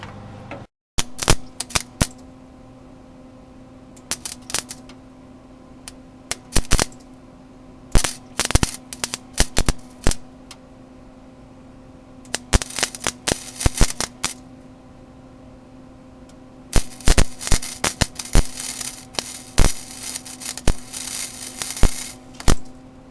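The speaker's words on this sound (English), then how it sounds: "that's how you weld a hole" A car body panel hole is filled by welding against a welding spoon, heard up close as bursts of sharp crackling and snapping arc welding with short pauses between them and a faint steady hum underneath.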